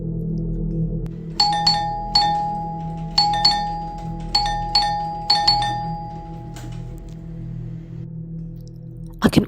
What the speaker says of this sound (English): the guy pushed the chime in my room messily